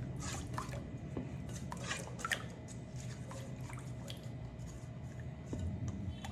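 Extra-large egg being stirred into bread dough ingredients for homemade loaf bread, with soft wet squishing and dripping sounds repeating steadily at close range, no voices.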